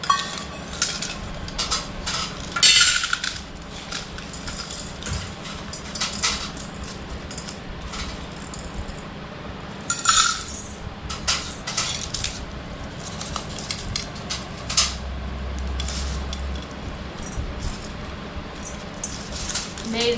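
A bowl of soil and wheat grains is stirred together by hand for a ritual sowing, giving a steady scraping, gritty rustle with occasional sharper clinks against the bowl, close and moderately loud throughout.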